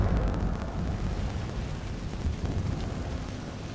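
An Incendio fire spell cast in Hogwarts Legacy produces a steady, rushing roar of flame, full and rumbling, sustained at moderate volume for a few seconds without voices.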